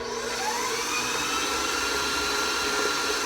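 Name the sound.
stand mixer running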